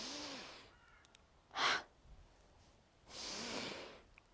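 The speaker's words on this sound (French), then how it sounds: "On peut faire une expire par la bouche." Breathing in the Wim Hof method, with a quick sharp inhale and then a longer, forceful exhale through the mouth, heard close and alone after a breathy opening.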